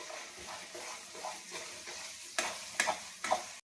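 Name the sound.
frying ground green peas (kachuri filling) in a pan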